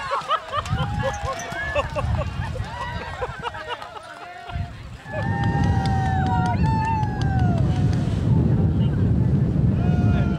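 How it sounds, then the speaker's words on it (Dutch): Steady wind buffets the microphone on a sailboat during a race, a rough, continuous roar that grows louder partway through, while people talk over it. "Jongens, het gaat opeens waaien."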